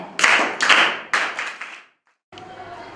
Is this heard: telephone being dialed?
no